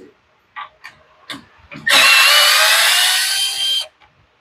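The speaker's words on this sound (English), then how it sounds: "Now we're going to go ahead and pull the carburetor." Tools working on the carburetor of a Yard Machines tiller that has sat unused for a while: a few short knocks and scrapes, then a loud, steady whirring burst of about two seconds up close, with a voice briefly at the start.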